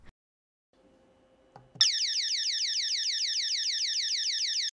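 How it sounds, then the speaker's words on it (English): A home alarm system's acoustic alarm set off by the SOS button on a remote control: after a few faint clicks, a loud, steady, rapidly warbling electronic siren sounds continuously for about three seconds. "The alarm system triggers an acoustic alarm as a deterrent when the SOS button on the remote control or"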